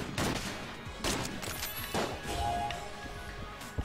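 An anvil-shooting weapon fires in the video game Exit the Gungeon, a few punchy, crashing shots in an uneven rhythm over busy game noise.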